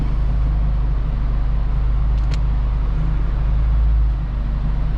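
A Volkswagen MK6 GTI fitted with a K04 turbo runs on a dyno, giving a loud, steady low engine drone that holds constant throughout with no speech.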